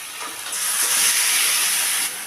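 Marinated chicken tipped into fried onion paste in a hot pan, setting off a loud, steady hissing sizzle that swells up and holds for over a second before easing off, close by.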